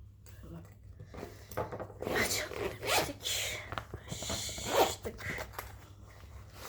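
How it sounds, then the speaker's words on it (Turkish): A Braun blood pressure monitor package is opened up close, with quick zipper-like tearing and rustling bursts of packaging handled in bursts, while someone talks intermittently. "Neyse hadi bu paketi de açalım."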